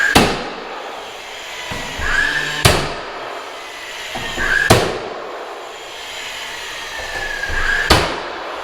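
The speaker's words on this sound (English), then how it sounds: "you're going to want to just start by nailing up the bottom first." Four sharp, loud hammer-like bangs ring out at roughly two-second intervals while window trim is nailed up, each strike followed by a brief fading ring in an otherwise quiet room.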